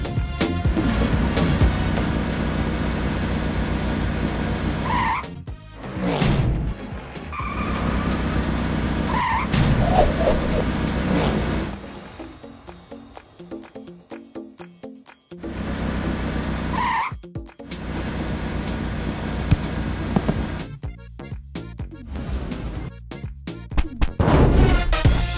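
An SUV engine revving with tire squeals and skidding, loud bursts of acceleration broken by short pauses.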